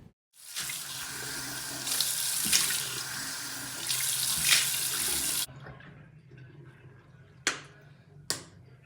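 Tap water runs steadily into a sink for morning face washing, a broad close hiss lasting about five seconds before it cuts off, followed by quieter trickling and two sharp clicks or knocks near the end.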